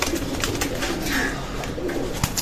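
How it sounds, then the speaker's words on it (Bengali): Pigeons, including a grizzle-colored Budapest pigeon, coo softly in a loft among young birds. The low murmuring sits within a dense, noisy background with no clear talk. "এই যে গ্রিজেল কালার একটা কবুতর, এটাকে অনেকে বুদাপেস্ট ফ্যাট কবুতর বলে"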